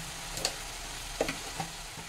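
A spice paste with salt and a splash of water sizzles in a pan while it is stirred for fritters: a constant close frying hiss with a few faint scrapes and clinks from the spoon.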